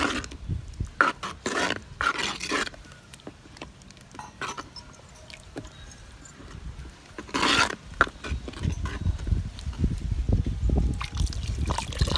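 Water trickles and sloshes in short bursts, with splashy pours coming and going close by, as water is poured into a cooking pot of lentils for drumstick and ponnanganni greens sambar.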